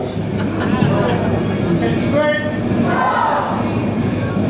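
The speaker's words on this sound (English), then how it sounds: "Big round of applause, ladies and gentlemen." Broad, steady crowd applause with cheering fills the space for a Warrington Gun Crew field gun drill display at an Armed Forces Day event in Liverpool, dense and continuous throughout.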